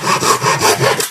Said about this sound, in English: we'll just start sawing through